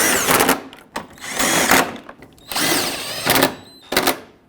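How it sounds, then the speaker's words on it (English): A power drill tightens the headlight assembly bolts on a Dodge Grand Caravan in four or five loud, close whirring bursts separated by short pauses, with no voices. "hold the headlight assembly in place to line it up with the fender and tighten up your bolts"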